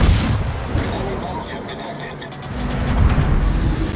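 A naval gunfire volley in the World of Warships video game booms in a dense, rumbling roar of heavy overlapping blasts that swell again toward the end, loud and continuous.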